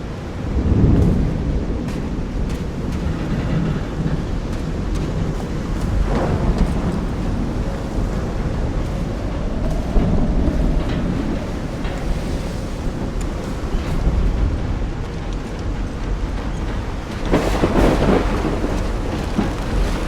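A thunderstorm with heavy rain near the shore and reefs at sea in Call of the Sea, with constant loud rain and surf, deep rolling thunder, and a sharper crack toward the end.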